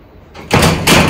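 A door swings and bangs in hot, gusty wind. Two loud, close thuds come in quick succession with a whooshing rush, after a quiet start.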